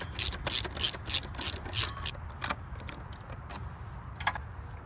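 Screws being undone on the idle air control valve of a 2001 Oldsmobile Alero, a quick series of close, sharp ratcheting clicks that thin out into a few scattered metallic ticks.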